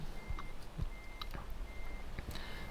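A truck in Euro Truck Simulator 2 backing up, its reversing alarm sounding three evenly spaced steady beeps over a low engine rumble and soft thumps, fairly quiet and with no speech.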